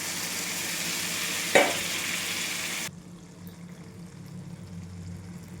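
Hot water poured into a loudly sizzling black-eyed bean curry: a steady frying hiss, a brief splash partway through, then the sizzle drops sharply to a quieter bubbling simmer.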